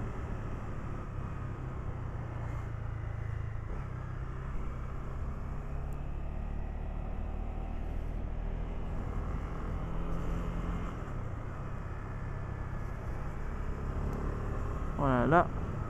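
A 2018 Honda CB300R motorcycle ridden on a small winding road gives a steady, rumbling engine drone with wind noise. Near the end it climbs sharply into a brief high rev of about 6500 rpm.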